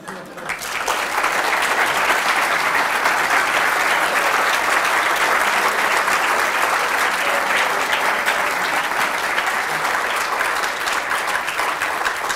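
Sustained applause from an audience, a dense wash of clapping that starts abruptly and continues evenly throughout.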